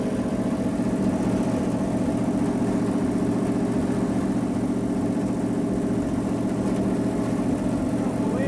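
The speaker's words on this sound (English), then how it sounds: "This engine is running just as smooth as it did a minute ago." A Dodge Viper's 460-horsepower engine runs with its oil and coolant drained, holding a steady, smooth low drone close by for the whole stretch, with no voices over it.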